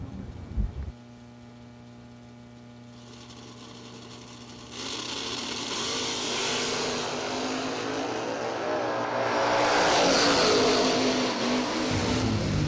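Mosier Camaro drag race car roaring down the drag strip, a steady engine drone that jumps to a louder, harsher full-throttle wail partway through and stays loud to the end, with no talk.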